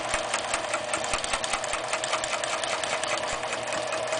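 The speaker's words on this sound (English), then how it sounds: "and proceed to sew." Sewing machine with a hexi foot stitching a straight line along a ruler for cross-hatching, a steady fast mechanical whir with rapid needle ticks throughout, close and continuous.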